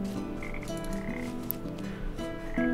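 Frogs croak in the video game Papo & Yo, a steady run of repeated croaks layered over the game's ambient music, with no talking.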